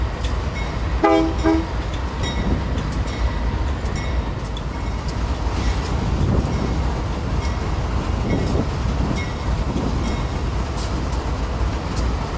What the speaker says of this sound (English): The 3 engines we saw earlier have been turned on the Y and are heading back into the yard